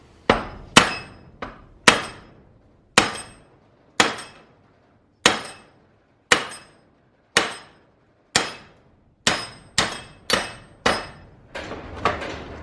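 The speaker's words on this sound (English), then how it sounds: "I just smack this old pin out, smack this new one in" Metal hammer blows driving an old greasable suspension pin out of a leaf spring mount on an Old Man Emu suspension install, about fifteen sharp ringing strikes at an uneven pace, close and loud, with no talk.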